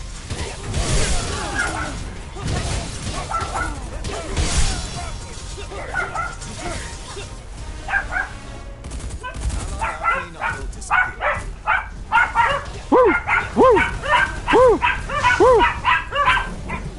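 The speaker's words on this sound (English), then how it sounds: "My dogs like to bark." Several dogs bark, yip and whimper in repeated close bursts, sparse at first and then quicker and more insistent toward the end, over a noisy background.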